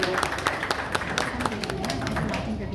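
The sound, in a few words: audience applause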